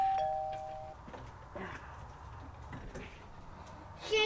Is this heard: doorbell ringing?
yes